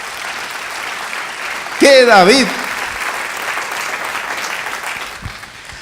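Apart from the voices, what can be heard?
congregation applauding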